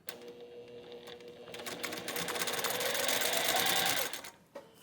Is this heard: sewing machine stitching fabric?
yes